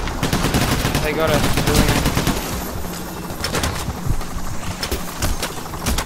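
Gunfire from the heist shooter Payday The Heist, a dense, continuous stream of rapid shots filling the whole stretch with loud, overlapping bursts while players talk over it.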